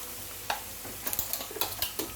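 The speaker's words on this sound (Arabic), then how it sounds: "هنكرمل طبعا في البصله" Sliced onions with a pinch of sugar caramelize in a pan, giving a quiet, steady sizzle broken by a few light scrapes and clicks as they are stirred.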